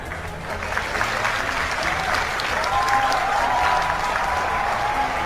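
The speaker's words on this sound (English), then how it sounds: "Okay, everyone's clapping." A large audience applauds in a hall, a dense, sustained roar of clapping that holds steady throughout, with a faint voice underneath.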